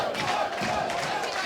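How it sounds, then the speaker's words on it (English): A wrestling arena crowd chants in unison for the team Reno Scum, a steady reverberant wash of many voices with rhythmic swells, heard from some distance. "You hear the chants, the serenade for the Reno Scum."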